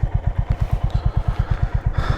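A motorcycle idles close by while being parked near Turga Dam in Purulia, its single-cylinder thump beating in a fast even rhythm, with a brief clatter near the end.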